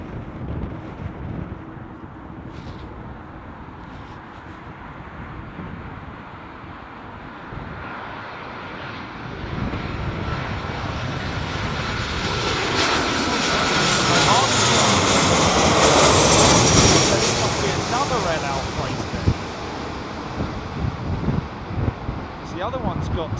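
Airliner flying past at Heathrow Airport during Storm Ciarán, its jet roar swelling loudly to a peak mid-clip then fading, with gusty wind buffeting the microphone throughout.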